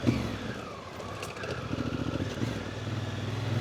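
A motorcycle rides over holes on a dirt road near Hatcreek Road, its engine chugging unevenly and fairly faint, with bumpy pulsing rhythm as the bike floats through the ruts.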